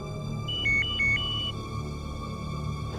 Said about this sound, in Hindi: फोन बज रहा है तुम्हारा